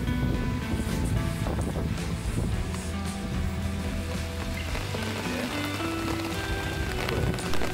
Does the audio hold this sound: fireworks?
no